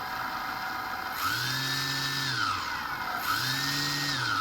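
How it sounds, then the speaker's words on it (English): An electric motor on a 44-inch-wingspan AT-6 Texan RC airplane spins with no propeller fitted, giving two bursts of a close, steady high whine that surges up and then eases off each time, with no talking. "Even without the prop, look at the torque of that motor."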